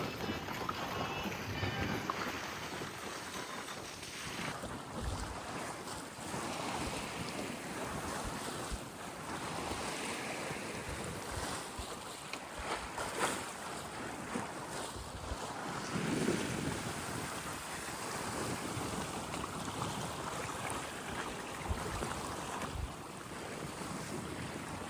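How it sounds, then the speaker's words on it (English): Steady wind buffets the microphone while waves wash and slap against a sailboat's hull on Lake Erie, a continuous, fairly faint rushing broken by occasional louder gusts and splashes. "the wind is right at our nose"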